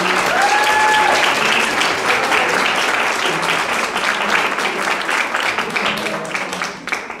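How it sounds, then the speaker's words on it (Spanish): Audience applause at a communication colloquium, loud sustained clapping from a room full of people that slowly thins toward the end, with a brief whistle-like tone near the start. "Un aplauso, por favor, muchas gracias por estar aquí."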